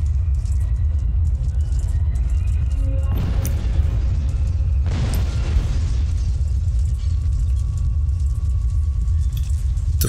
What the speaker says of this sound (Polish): Wszystko, kurczę, wybucha.